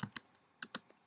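A computer keyboard is typed on at close range in a few quick, uneven keystrokes, faint and crisp with short pauses between taps.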